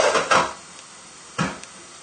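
A metal lid set down onto a pan of sausages on a stovetop, giving two short clattering knocks about a second apart, close and moderately loud, with quiet room background between.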